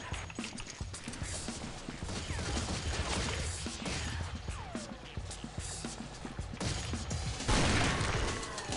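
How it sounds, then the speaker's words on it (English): Pistol gunfire in Unreal Tournament 2004 during a night deathmatch: a busy stream of sharp, rapid shots and clattering game effects, moderately loud and continuous, with a player briefly talking over it. "Pops the gun."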